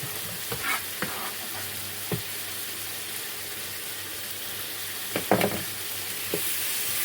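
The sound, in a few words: vegetables frying in pan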